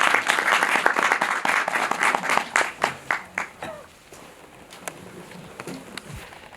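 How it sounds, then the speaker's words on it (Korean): Applause from a cinema audience at a film screening talk in Apgujeong, Seoul: brisk, distinct claps that thin out and fade over several seconds, leaving only a few scattered claps at the end. "큰 박수 부탁드릴게요."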